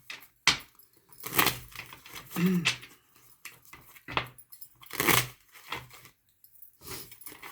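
Tarot cards being shuffled in a series of brief papery riffles and flutters, separated by short pauses.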